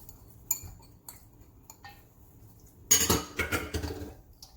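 Green onion and cilantro garnish gets tossed in a bowl of air-fried namkao, heard as faint scattered utensil clinks followed by a louder, busier run of clattering against the bowl.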